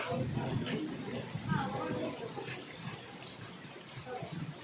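Heavy rain falls in a village during stormy weather, a continuous watery rush. Voices talk over it throughout.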